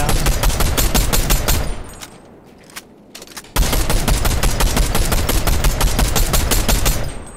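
Loud, close automatic gunfire in Fortnite, rapid continuous bursts that pause briefly for a moment of quieter background before resuming at full intensity.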